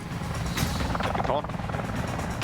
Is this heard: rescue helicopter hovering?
yes